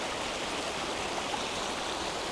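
Continuous broadband rush of a flowing river beside its bank on a rainy day, the water murky, heard as an even, fairly soft wash with no voices.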